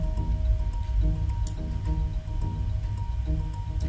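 Water is poured onto fertile garden soil freshly planted with seedlings. It gives a steady, close splashing wash with soft squelches and drips as the soil soaks it up.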